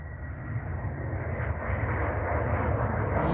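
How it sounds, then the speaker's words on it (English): A Ryanair airliner passes at Manchester Airport, its jet engine roar a broad steady rumble that builds gradually louder over the few seconds, heard outdoors with no talking. "there goes Ryanair."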